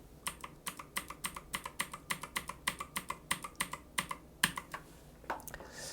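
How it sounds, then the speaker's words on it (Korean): Computer keyboard keys pressed repeatedly in a steady rhythm while duplicating shapes in PowerPoint, about sixteen crisp close clicks with one key shortcut used over and over, with no talking. "계속 컨트롤 D키를 눌러서 총 16개를 만들어줍니다"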